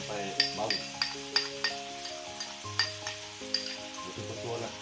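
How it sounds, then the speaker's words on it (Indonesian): Chili and garlic sambal frying in hot oil for a mackerel dish, a steady close sizzle broken by repeated scraping strokes of a spatula stirring through the paste, with no talking. "kita pastikan kita goreng dulu sampai naik minyak"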